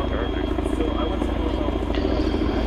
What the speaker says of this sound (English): We have a Chinook inbound.